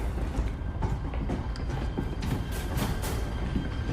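A train rumbles along steadily with a continuous low roar and faint rhythmic clatter of wheels on track, fairly close, in the film The Hunt (2020).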